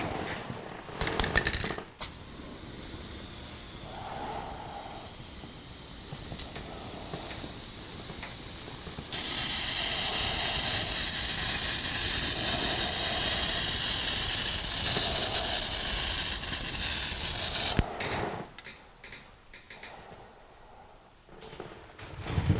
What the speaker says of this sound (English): you could produce a good coat with a spray can over a spray gun